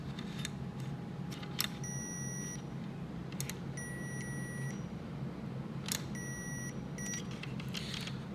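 A multimeter emits three separate steady electronic beeps while touching two points to test continuity during a Super Nintendo fuse repair, each tone lasting under a second against a quiet background hum with faint clicks.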